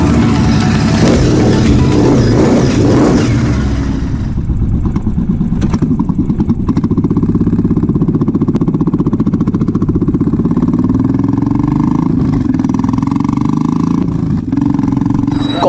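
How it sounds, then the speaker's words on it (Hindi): A Royal Enfield Continental GT 650 motorcycle engine revs loudly near the start, then settles into a deep, throbbing exhaust idle with occasional blips of throttle. "एग्जॉस्ट की आवाज सुना दी जाए"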